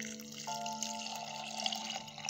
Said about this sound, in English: Now I'm just gonna go ahead and add some water